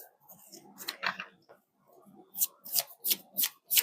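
Tarot cards shuffled in quick bursts, a run of crisp riffling snaps in the second half after softer handling and low talk early on.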